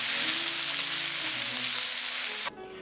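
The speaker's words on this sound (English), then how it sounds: "Stir fry in high heat until it is softened for about 3 minutes." Apples with a pinch of salt and white pepper stir-fried in a hot pan over high heat give a loud, steady sizzle that runs unbroken for nearly three seconds, then drops off abruptly near the end.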